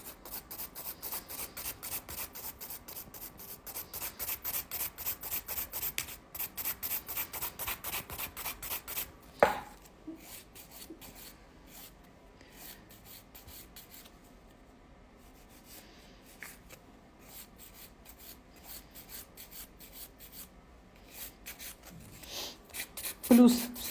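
Steady rhythmic rasping of a file across an acrylic nail, quick even strokes for several seconds, then a pause with softer intermittent scraping and handling noise, close and fairly quiet.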